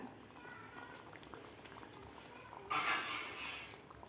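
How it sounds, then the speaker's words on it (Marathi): Paneer masala gravy simmering in a pan gives faint bubbling and popping that swells into a louder, denser burst of bubbling toward the end, close up and free of speech. "अशी मस्त उकळी आलेली आहे आपल्या ग्रेव्हीला"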